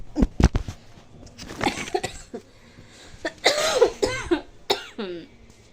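Several harsh coughs in quick bursts, followed by throaty, raspy coughing and strained breaths, close and fairly loud.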